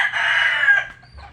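A backyard flock of chickens and roosters, with a single bright, fairly close rooster crow lasting under a second, followed by faint low background noise and no talk.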